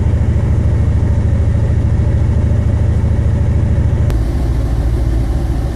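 A truck engine idles at operating temperature with fluctuating RPM, a loud, steady low diesel throb close by that shifts slightly in pitch near the end, with no voices.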